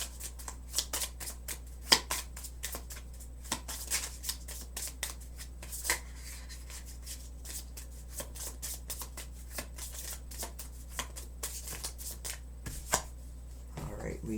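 Tarot cards shuffled and pulled from a deck, a close, steady run of soft riffling slaps and crisp flicks with sharper snaps every few seconds, quiet throughout.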